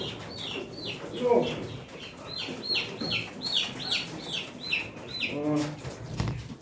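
High peeping calls from a young chicken repeat rapidly, with a few low clucks and a soft voice nearby.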